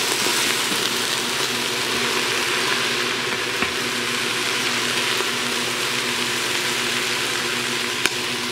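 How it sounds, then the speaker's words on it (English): Stew meat bits being scraped loose from the bottom of an Instant Pot, heard as a steady, dense sizzling, frying hiss that fills the whole stretch, with faint metallic scrapes and a sharp click near the end. "I'm scraping the bottom to get the bits."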